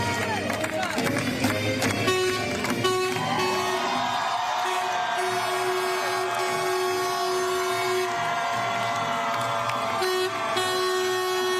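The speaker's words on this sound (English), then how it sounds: "Take a listen right here as that bus rolls in here on campus." A bus horn honks repeatedly in long sustained blasts as the bus rolls onto a university campus in Westwood during a celebration, heard amid loud crowd noise and cheering.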